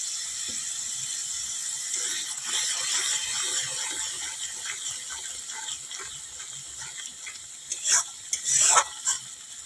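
Ground spices frying in oil for a spicy fish curry, with a bright, continuous sizzle, stirring scrapes, and a few louder clanks and scrapes toward the end.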